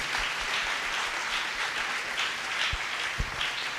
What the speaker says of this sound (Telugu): గట్టిగా చప్పట్లు కొట్టి దేవునికి వందనాలు తెలియచేద్దాం